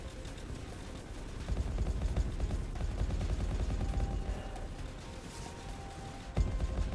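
Rapid, dense gunfire rattles continuously from the guns mounted on a train in the video game Ironfront Express, a steady mechanical barrage with a sharper burst near the end and no voices.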